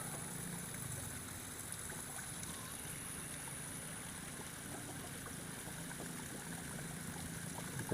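A village water spout runs in the late afternoon, a faint continuous splashing flow with steady low rumble and no pauses.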